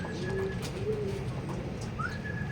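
Racing pigeon arriving at a club training loft in Calauag, Quezon, with a few soft coos and brief chirps over a low outdoor rumble.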